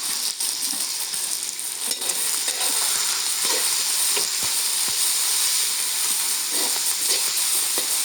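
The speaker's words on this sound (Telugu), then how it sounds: "ఆనియన్ వేసేస్తున్నాను. Green chillies, curry leaves and onions." Onions, green chilies and curry leaves fry in hot oil for a chicken liver curry, giving a loud, steady sizzle and hiss throughout with a few brief stirring clicks and no talking.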